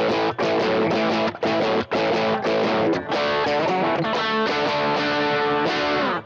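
Electric guitar runs through an Ibanez Sonic Distortion SD9 pedal, playing a loud, fuzzy, saturated riff with choppy stops and sustained chords, close and alone without talk.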